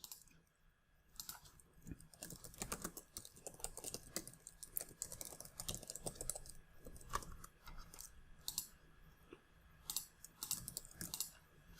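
Quiet, rapid clicking of fingers typing on a computer keyboard, uneven bursts of keystrokes continuing throughout at close range with no speech.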